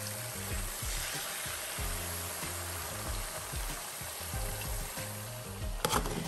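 Chicken frying in a pan as part of a big home cooking session, a steady dense sizzle with low bubbling pops running throughout, close and continuous, with a brief clatter near the end.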